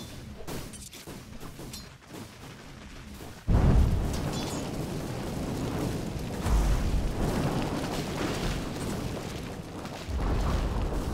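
A Dota 2 match with Dire's middle tower under attack and falling, filling the scene with a continuous roar of explosive booms and crashing impacts that swells abruptly into a loud blast and stays dense and heavy throughout.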